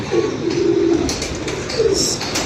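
Pigeons kept by Punjabi pigeon fanciers coo close by, with two clear low coos in quick succession over a background of rustling and shuffling.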